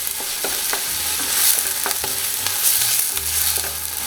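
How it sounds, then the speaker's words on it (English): Soup vegetables frying with tomato paste in a pan for minestrone, a steady close sizzle broken by regular scraping stirs and clinks of a utensil, no voices. "Give a nice fry like that with the tomato paste."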